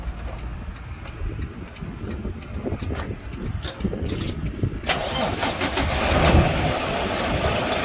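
A truck engine starts and settles into a steady running idle during a coupling and uncoupling procedure, with the parking brakes applied and the four-way flashers on, a low rumbling drone growing slightly louder.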